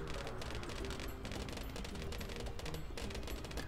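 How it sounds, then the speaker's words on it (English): Cannon towers in Bloons TD 4 fire rapidly and continuously, a dense barrage of overlapping popping shots, fairly faint and without speech. "Okay, another cannon right here."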